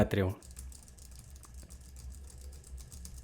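Soft, quick keyboard clicks tapping along steadily, the keyboard about 40 cm to the right of a FIFINE A6T microphone, following a brief burst of voice at the very start.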